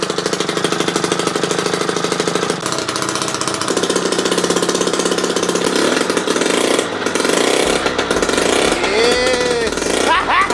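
A small 48cc two-stroke engine mounted on a bicycle runs steadily with a rapid, buzzing putter close by, revving and rising in pitch near the end while people talk over it.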